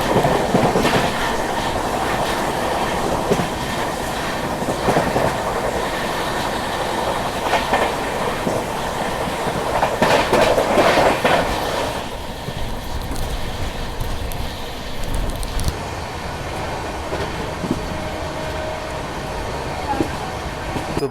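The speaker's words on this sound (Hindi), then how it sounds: "यहाँ पे ओवरटेक कर रहे हैं दादरी प्रयागराज ग्रीष्मकाल स्पेशल की" The Udhna Banaras Express running at speed while overtaking another train, a loud continuous rumble with rhythmic clickety-clack of wheels over rail joints, heard from on board, with a brief surge of noise midway and faint talk in the background.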